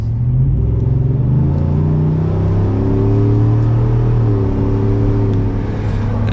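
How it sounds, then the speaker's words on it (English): A 2022 Ford F150 XLT FX4 with a V8 accelerates steadily with a loud, close, continuous engine rumble that climbs in pitch as the revs rise. No one speaks over it. "we'll slow down a little bit so we can hear that V8 note"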